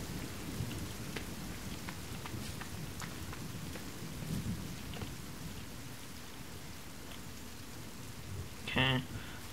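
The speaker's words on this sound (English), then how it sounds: "Does it have to rain? Seriously?" Rain falls steadily in a forest in a survival game, with scattered close drop ticks, a swell of rumbling thunder partway through and a brief sharper sound near the end.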